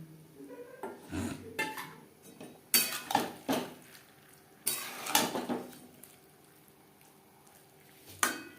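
Cabbage, flat beans and potato being stirred and mashed together in a cooking pot, with irregular scraping and clinking of a utensil against the metal in a few bursts, close by and with no talk.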